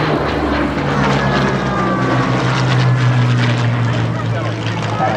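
A Hawker Hurricane propeller fighter drones past at the Dunsfold airshow, a loud steady engine roar with slowly shifting pitch, while a commentator's voice runs underneath.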